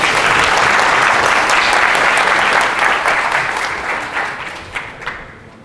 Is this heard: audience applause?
yes